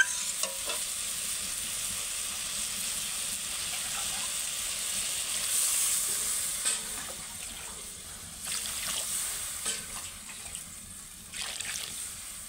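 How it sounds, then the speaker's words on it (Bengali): Potatoes and drumstick pieces fry in spiced oil for a fish curry, a quiet, steady sizzle with occasional stirring scrapes and clinks, no one talking. "আলু আর ডাঁটাটা আমি ভালো করে কষিয়ে নিয়ে এতে জল ঢেলে দেবো।"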